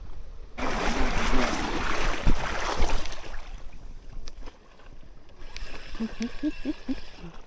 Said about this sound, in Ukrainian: Вітер дує такий прямо аж ух, конкретний.